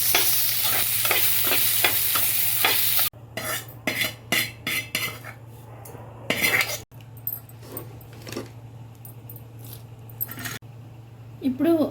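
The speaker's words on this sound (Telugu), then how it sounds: "ఇందులోనే కొంచెం ఉల్లిపాయలు కూడా వేయించుకోవాలి" Onions frying in a pan for a prawn pickle masala, with steady sizzling under repeated stirring and utensil scrapes against the pan, loud at first, then quieter with clinks and a hum.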